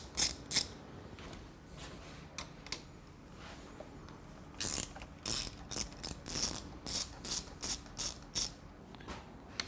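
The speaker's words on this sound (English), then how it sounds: "using our 6mm Allen. Gonna undo these pinch bolts." A ratchet with a 6mm Allen bit undoing the handlebar pinch bolts on a Triumph Bonneville, sounding as sparse clicks that build into a steady run of sharp, close ratcheting bursts.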